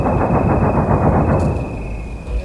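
Mortar and gunfire from the opposing side at a front-line position in Karabakh sound as a loud, dense burst of rapid reports that rolls on for a couple of seconds, with no voices.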